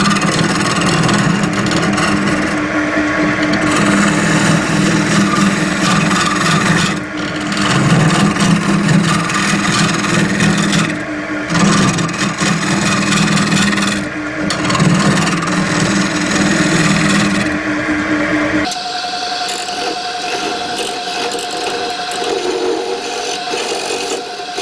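A ficus blank is worked with a hollowing tool on a wood lathe, giving a loud, continuous scraping rasp broken by several brief pauses before a quieter motor whine takes over near the end.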